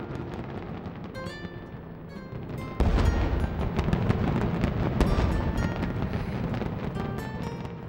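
Fireworks burst in a steady crackling string of pops and bangs, turning louder and denser partway through and continuing without pause, with no talking.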